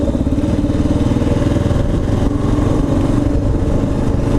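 A Kawasaki KLR motorcycle engine runs in a steady, close, loud mid-range drone with a rapid firing pulse. The rider is struggling with the clutch, though the engine note stays fairly even throughout, with no speech.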